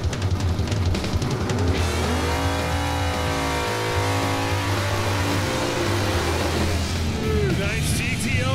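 Pontiac GTO doing a burnout at a drag strip, engine revving hard with rising and falling tones and tire roar, loud and close, with a voice talking over it.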